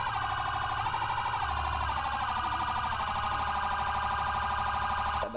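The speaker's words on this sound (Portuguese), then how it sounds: "Steve, desliga, desliga a sirene aí." A loud wailing police siren in GTA 5 cycles up and down continuously, close by, then cuts off abruptly at the end.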